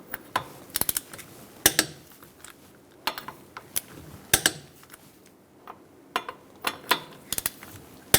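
A socket wrench torques the lug nuts on a 2002-2006 Toyota Camry with a 21mm socket, giving bursts of sharp ratcheting clicks separated by short pauses, close and moderately quiet with no talking.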